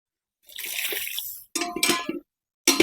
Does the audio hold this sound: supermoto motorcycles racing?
no